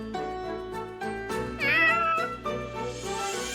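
A cat meows in Fire Emblem Warriors: Three Hopes, a wavering, rising-and-falling mew over a steady bed of game music, fairly close and clear.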